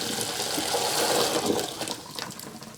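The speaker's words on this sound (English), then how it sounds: "Alright, so drain your potatoes." Cooked potatoes being drained: a sustained splashing rush of water pouring out, strongest in the middle, then tapering into smaller trickles and drips.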